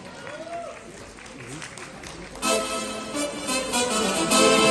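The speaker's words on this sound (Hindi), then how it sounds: "आप हैं, इनके लिए तालियां होनी चाहिए।" Applause breaks out from the audience at a Pakistani folk singer's live show in Manchester, rising after a host speaks and continuing as dense clapping with crowd noise.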